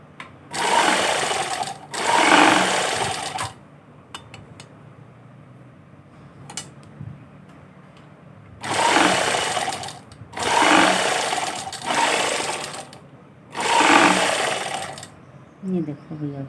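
An Umbrella brand sewing machine runs in five loud, close bursts of rapid stitching, each a few seconds long, separated by quieter pauses with faint clicks and brief speech.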